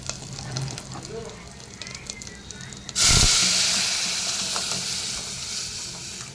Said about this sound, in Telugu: ఇప్పుడు మనం దీంట్లో పప్పు వేసేసుకుందాం.